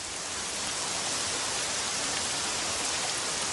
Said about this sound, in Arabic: السماء ممطرة.